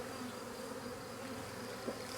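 A swarm of honeybees drones steadily in a faint, continuous buzz after being knocked from a branch into a bucket, with one small bump near the end and no voices.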